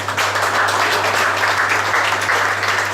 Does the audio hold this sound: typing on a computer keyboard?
no